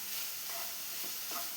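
Coconut barfi mixture of grated coconut and powdered sugar being stirred in a pan, giving a soft, faint scraping with a couple of brief louder strokes.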